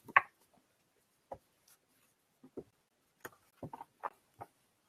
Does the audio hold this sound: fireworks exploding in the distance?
no